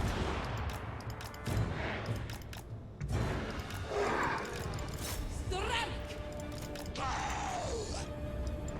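Battle sounds from Total War Warhammer with gunfire, bursts, clanks and shouts in a busy, continuous mix, with a few whooshing projectile sweeps near the end.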